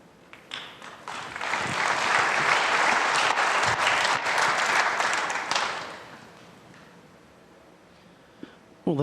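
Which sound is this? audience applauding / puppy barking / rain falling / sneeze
audience applauding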